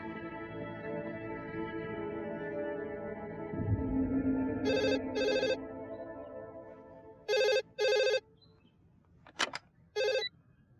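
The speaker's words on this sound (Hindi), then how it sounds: "ओफो प्रेरणा, कब से फोन कर रही हूँ, उठाती क्यों नहीं?" Telephone ringing indoors, loud electronic double rings in paired bursts repeating at steady intervals, cutting in over a sustained musical score.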